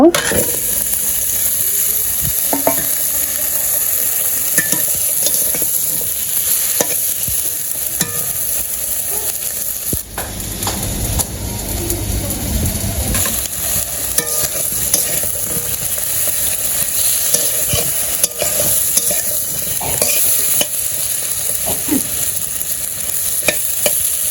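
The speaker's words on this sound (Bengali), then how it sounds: "এই যে আমার পটল ভাজা প্রায় গেছে" Pointed gourd (potol) fries in a pan, with continuous sizzling and rhythmic scraping and stirring from a utensil over about twenty seconds, while a voice speaks now and then.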